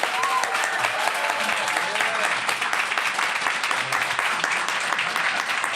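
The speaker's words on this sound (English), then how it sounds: "please give a big round of applause to Jeremy Burnnett" A live podcast audience applauds a guest with a steady, dense wash of clapping that holds at full strength across the whole stretch, while a voice speaks faintly underneath.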